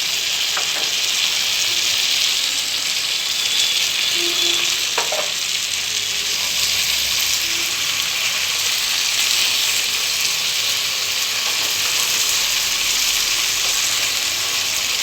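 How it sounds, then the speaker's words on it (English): Chopped tomato frying in a pan of chicken tikka masala with kasuri methi and cream, giving a steady loud sizzle and crackle throughout with a few faint stirring knocks, no talking. "It's time to add the chopped tomato."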